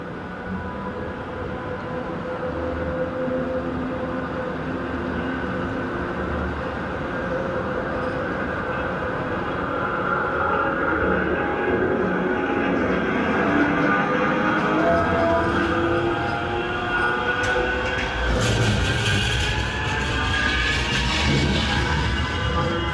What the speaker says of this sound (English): That's Unit 3025, pulled out of the Piccadilly Undercroft and makes its way up Piccadilly Place towards Town